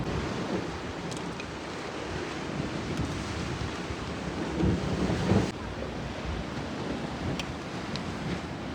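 Surf washes continuously onto a seashore where a village-style rice dish is being cooked outdoors, with gusts of wind buffeting the microphone and a slightly louder wave surge near the middle.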